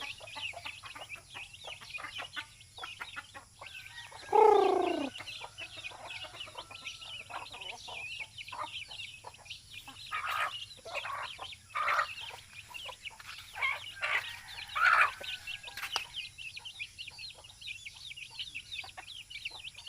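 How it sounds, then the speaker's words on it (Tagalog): Chickens cluck and squawk intermittently at a moderate distance, with a few sharper calls standing out over quiet outdoor background noise. "Yung alaga namin manok."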